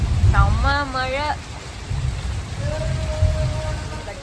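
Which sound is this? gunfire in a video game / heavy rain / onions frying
heavy rain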